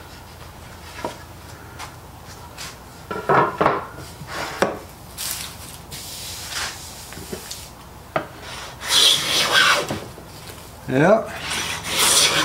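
Short rasping strokes of a 55 degree high angle frog hand plane shaving crotch grain walnut, several uneven passes close by with pauses between, and a brief word spoken once.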